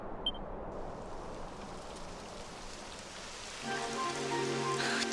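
Rain in the video game Dragon Quest XI, a steady hiss of falling drops, fairly soft, joined near the end by a soft musical tone; no talk.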